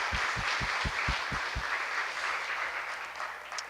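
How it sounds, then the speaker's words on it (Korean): Sunday worship congregation at a Korean church clapping in thanks to God, a dense, moderately loud burst of many hands with a few heavy low thumps early on, gradually thinning and fading. "우리 먼저 하나님께 좀 감사의 영광의 박수 좀 돌려드릴까요?"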